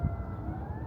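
Ambulance siren in the distance near Detroit, heard as a faint steady wailing tone over low traffic rumble, briefly.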